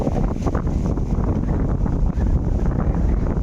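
Strong wind gusting outdoors during a storm, a constant roaring buffet hitting the microphone with no let-up.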